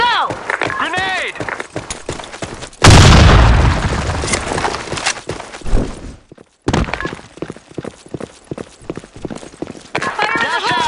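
A grenade explosion in a tactical shooter game: a sudden heavy boom with rumbling debris that fades over a few seconds, surrounded by gunfire, footsteps and shouted player voices.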